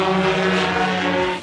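An agricultural drone's propellers hum steadily with a droning, buzzing whine, loud and close, in a brief burst that fades slightly at the end.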